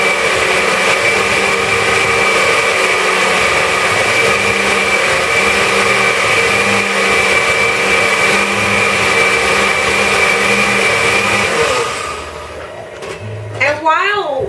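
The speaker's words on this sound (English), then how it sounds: "what I'm going to do is put it in the blender" An electric blender runs continuously and loudly, whirring as it purées chile verde sauce with pork for tamales, its steady motor drone lasting about twelve seconds before winding down as a voice speaks briefly at the end.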